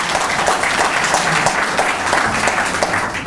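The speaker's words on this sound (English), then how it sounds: "Give him a big round of applause" Audience applause at a medical devices grant event, a loud, even roar of many people clapping that continues without a break for over three seconds.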